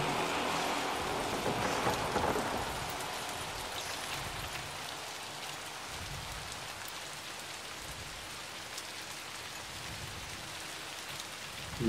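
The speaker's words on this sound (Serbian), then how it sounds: "Ovo baš pljusak." Heavy downpour in the video game Little Nightmares II: a steady, dense hiss of rain on surfaces, slightly stronger at first, then evenly sustained.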